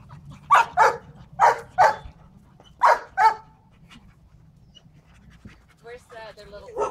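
A dog that has just opened a gate pants in quick, breathy pairs of puffs close by, then lets out a few small whimpering yips, while a person talks in the background.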